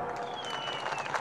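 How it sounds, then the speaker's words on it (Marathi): Clapping from a crowd at a political protest rally, a dense spread of claps filling the short moment without a pause. "ए वाजवारे टाळ्या"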